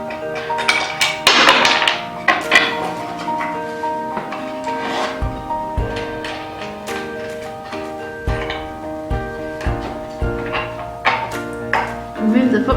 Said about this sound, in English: so you then undo the screws